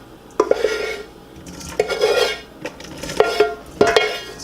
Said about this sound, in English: now I'm just going to take the beef and put it into the colander.